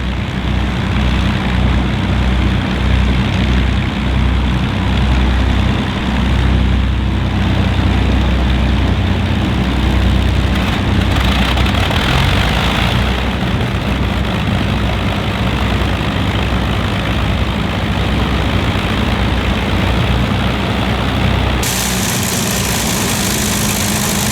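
An Avro Lancaster bomber's number 2 piston engine runs continuously at close range, a loud, steady droning roar that holds without a break throughout.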